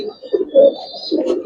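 A Giribaz pigeon held in hand at a loft gives low, throaty coos in a few soft, rolling bursts, close by and alone.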